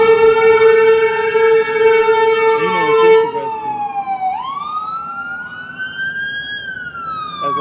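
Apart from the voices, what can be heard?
ambulance siren passing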